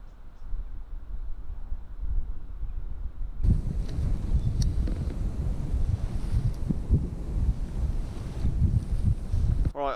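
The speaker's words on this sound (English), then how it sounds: "The wind is just knocking everything over." Strong wind buffets the microphone beside open water with a fishing rod set up, roaring low and steady, then growing much louder and gustier partway through and staying rough to the end, with no voices.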